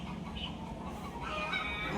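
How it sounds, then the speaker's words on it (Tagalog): Chickens cluck noisily and continuously, a busy barnyard chatter of overlapping hen calls at moderate volume with no voices present. "Nag-iingayan yung mga manok o."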